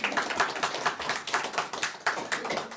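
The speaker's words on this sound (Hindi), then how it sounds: "एक बार जोरदार ताली हो जाए आंटी के लिए" An audience claps loudly for an aunt, many hands beating in a fast, slightly rhythmic burst of applause that carries on throughout.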